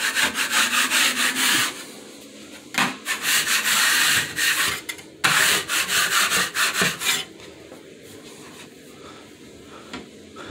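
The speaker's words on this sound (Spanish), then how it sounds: "Esperando la lija." Sandpaper scrubs rhythmically against wood in repeated back-and-forth strokes, close and steady, pausing briefly between bursts before trailing off.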